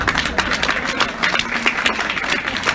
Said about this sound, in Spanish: No sé por qué aplauden